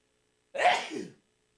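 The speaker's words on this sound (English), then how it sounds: "I know I got to sneeze here in a second." A single sneeze from a man during a long livestream, loud and close, with a sharp breathy burst followed by a shorter trailing exhale, alone with no talking.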